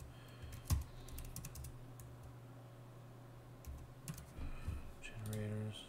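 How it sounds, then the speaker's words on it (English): Typing on a computer keyboard while adding rental items to a Squarespace site for a hardware store; soft, quiet clusters of key clicks come in short bursts beneath a low steady hum, with a person speaking in between. "I'm going to type"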